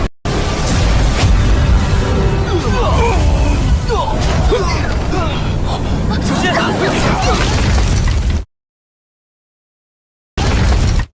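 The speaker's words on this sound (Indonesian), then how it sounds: "orang melihat ke arah Han Feng dan Xiaoyan, langit langsung menimbulkan ledakan mengerikan." A loud, sustained rumbling blast with crackling debris fills several seconds, then cuts to silence before a brief burst returns.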